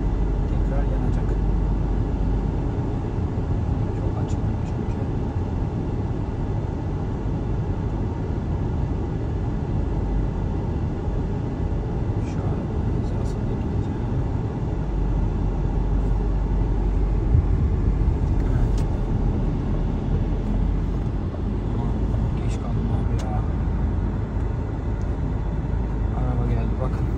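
Cars passing a Peugeot 3008 Allure on the road, heard from inside as a steady broadband road rumble and engine drone throughout, with no distinct pass-by peaks standing out from the continuous cabin noise.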